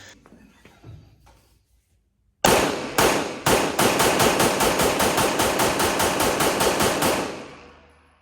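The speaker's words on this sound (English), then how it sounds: "So this is that 20 rounds right through the Staccato P." Twenty rounds are fired from a Staccato P pistol in a fast, steady string of sharp, loud reports that begin after a near-silent pause and ring out briefly at the end.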